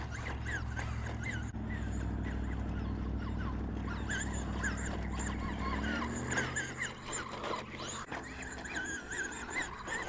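A Traxxas Rustler RC car fitted with 3D printed paddle tires tears across a beach, its motor whining loud and close with shifting pitch and gritty sand spray, steady and unbroken for the whole stretch.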